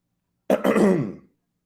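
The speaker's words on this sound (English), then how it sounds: "Excuse me, I got a little cough" A single short cough, close and fairly loud, ending quickly in silence.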